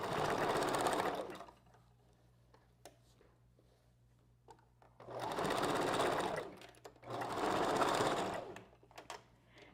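A sewing machine stitches through a wig during wig construction, running in three sustained bursts separated by quiet pauses, with faint handling clicks between runs; no one speaks.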